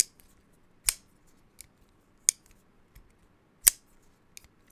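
A Dan Carraher folding knife is flipped open several times, giving sharp metallic snaps spaced irregularly with brief quiet gaps between them, close and crisp with no talking.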